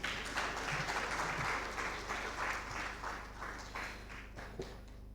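Audience applauding at a national migrant dialogue opening ceremony, a fairly distant, steady round of clapping from a large hall crowd with a low constant hum underneath, gently tapering toward the end.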